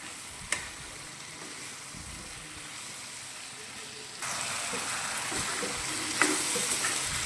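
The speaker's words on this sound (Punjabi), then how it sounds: "ਛੋਲੇ ਵੀ ਆਪਾਂ ਭੁੰਨੇ ਜਾਣੇ ਇੱਦਾਂ ਹੀ ਹਿਲਾਉਂਦੇ ਹੋਏ" Boiled chickpeas roast in a spiced masala in a pan over a medium gas flame, sizzling and frying steadily throughout with scraping stirring noises and a couple of sharp clicks, growing a little louder partway through.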